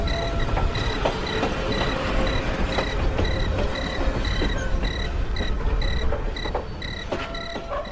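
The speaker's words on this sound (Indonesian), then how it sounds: "Tiba-tiba suara kereta berjalan." A moving train rolls steadily along the rails, with a continuous rumble, rhythmic clicking wheel beats and a faint high squeal, heard from nearby for eight seconds without any speech.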